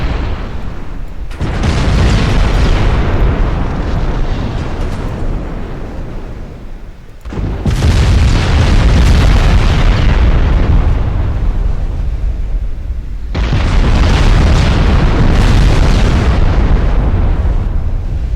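Heavy explosions from torpedo hits in the naval warfare game Ultimate Admiral Dreadnoughts, three long, loud booming blasts in succession, each rumbling for several seconds, with no talk.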